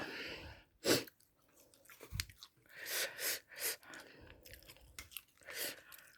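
Close, wet chewing and crunching of som tam (green papaya salad) with pla ra fish sauce, several bursts of bites and mastication separated by short pauses.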